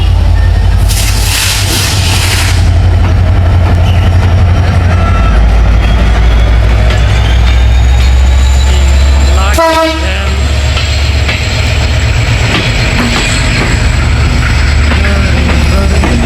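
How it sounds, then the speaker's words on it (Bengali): A train pulls into a railway station near Bheramara, passing close by as a loud continuous rumble of carriages fills the whole stretch. A horn blast sounds partway through, and brief hissing bursts come early on. "গাইজ এই যে ট্রেন আসতেছে আমার একবারে সামনে"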